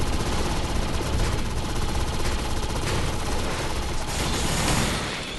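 Rapid automatic SMG gunfire in the sci-fi shooter game Defiance, a dense, continuous stream of loud rattling shots with mechanical clatter running throughout.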